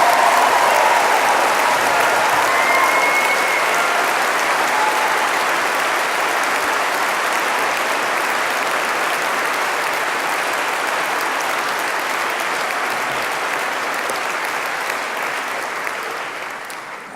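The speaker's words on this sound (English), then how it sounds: "give yourselves and your families one last round of applause" A graduation ceremony audience claps in a large hall, a dense, sustained round of applause that stays loud and steady before tapering slightly at the end, no voices over it.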